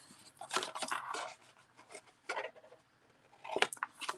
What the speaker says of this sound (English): we're going to angle cut these just a little bit